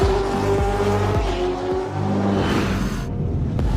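Race car engines roar and rev loudly up close, with tires squealing and skidding in sharp bursts over a constant high-volume engine drone.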